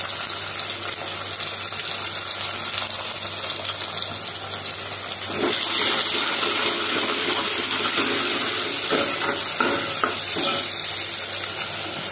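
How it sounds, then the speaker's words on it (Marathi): Chopped onion and tomato fry in a pan with a continuous close sizzle that grows louder and busier about halfway through, with light stirring. "कांदा लाल होऊ दे. थोडंसं टमाटर टाकू."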